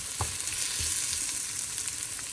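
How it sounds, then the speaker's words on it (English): Burgers sizzle on a grill set to medium heat, giving a steady close hiss and crackle that runs throughout, with a few soft clicks and bumps underneath and no talking. "I've got my grill switched on a medium heat for my burgers"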